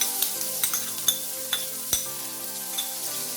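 Chopped onion tossed into hot oil with whole spices for a Bengali prawn malai curry, a close, even sizzle punctuated by sharp spatula clicks and taps against the pan every half second or so, without any voices.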